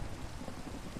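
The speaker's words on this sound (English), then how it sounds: "We have rain. It's effectively showing us, effectively hiding our thunder." Steady rain with low thunder rumbling beneath it in the Minecraft video game plays as a constant, fairly faint wash with no voices.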